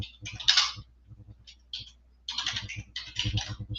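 Quick bursts of close, crisp clacking come from a computer keyboard while someone types up notes on a gold and US market breakdown. The keystrokes arrive in irregular clusters with short pauses between them, and nobody talks.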